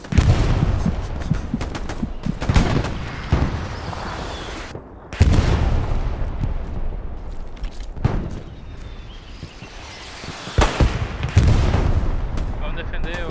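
Gunfire and heavy explosions crackle through a World War II battle in the video game Hell Let Loose, with bursts of rifle and machine-gun shots and booms, loud and continuous, while a player talks at times.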